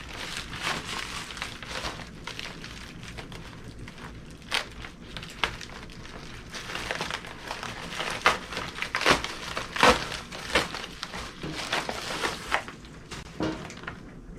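Packaging for a dental device, an AerosolARMor HVE arm and holder, being opened and handled, with close crinkling, crumpling and rustling in irregular bursts, some sharp crackles standing out.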